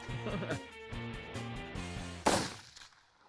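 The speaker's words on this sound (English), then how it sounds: "Dan, we kept firing shots at it" A single sharp gunshot fired at a target while testing red dot optics outdoors, standing out as one loud crack over background sound and talk, followed by a quick fade.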